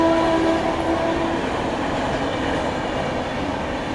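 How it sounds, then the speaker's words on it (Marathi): A train runs along a railway line beside a girls' hostel in Pune, a steady loud rumble of wagons rolling past with a short horn-like tone at the start, no talk. "रेल्वे लाईन वगैरे आहे, त्याच्यामुळे आम्हाला अभ्यासामध्ये खूप जास्त प्रॉब्लेम होतोय."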